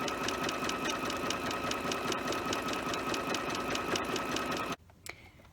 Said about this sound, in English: I'm able to just zigzag over the top of that entire edge, and it will keep it secure.